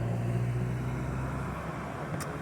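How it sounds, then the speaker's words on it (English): Car traffic passing outside an open car window, a steady low rumble and road hiss that fades slightly, with a brief high click near the end. "Now I'm gonna have to listen to the cars passing by."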